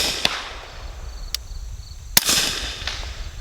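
Suppressed shots from a Lipseys Retro Glock P80 pistol fired outdoors: four sharp, dampened cracks, irregularly spaced, with a louder shot near the end and a faint whine between them.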